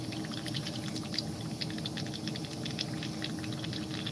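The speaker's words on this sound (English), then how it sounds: "I'm just gurgling that up, tip it upside down." Homebrew airbrush cleaner mixed with ammonia gurgles in an airbrush cup, a steady, unbroken bubbling and fizzing texture at close range.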